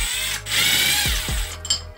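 Power screwdriver with adjustable speeds running while fitting wheel spacers, a loud close whine that winds up, dips and stops, then short revving bursts follow, with no talking.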